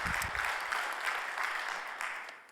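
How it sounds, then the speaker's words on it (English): Faint audience applause at a conference session, a steady patter of many hands clapping, distant and gradually fading toward the end. "So a round of applause for Cecilia."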